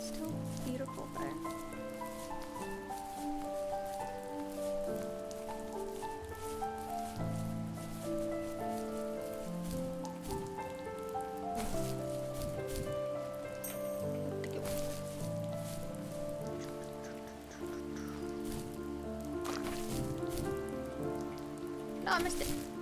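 Rain in The First Tree game falls as a steady, soft patter beneath a continuous layer of melodic music, staying even throughout with no clear breaks.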